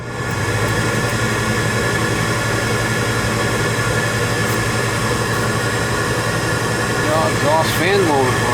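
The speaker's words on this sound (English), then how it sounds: "Exhaust fan motor running." An old York gas furnace's exhaust fan motor runs with a steady, loud mechanical drone and hum that holds constant throughout, joined by a faint whine near the end.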